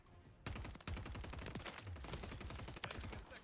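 Gunfire in the Call of Duty Modern Warfare 3 video game, a sustained rapid automatic burst that rattles on without pause after a brief quiet start, dense and loud throughout.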